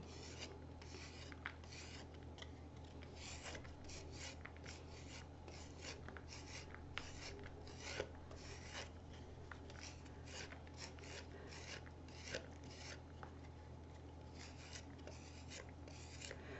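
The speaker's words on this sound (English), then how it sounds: "The smoother you get your scraping done, the better polish you'll have on your pot." Steady rasping scrape of a tool smoothing the surface of a clay pot, a continuous close, gritty rubbing with repeated short strokes and no talking.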